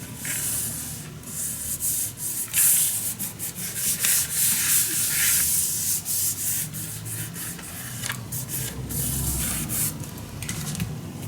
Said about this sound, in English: Burnish it down, and then we go to the other side and do the same thing.